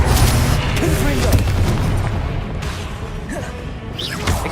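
Confringo blasting spells explode one after another in the Hogwarts Legacy video game, with heavy booming blasts and crashing impacts over a dense, continuous rumble of combat noise.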